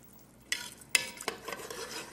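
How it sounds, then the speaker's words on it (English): Water and salt stirred in a cooking pot, a few faint clinks and scrapes of a utensil against the pot over a quiet background. "Now put a cup in that, and I'm gonna stir it."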